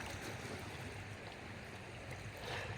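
Sea water washing steadily against the shore, a continuous broadband wash with soft surges and low rumble, moderately loud and without any talk.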